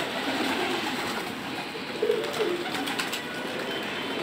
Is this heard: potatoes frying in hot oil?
no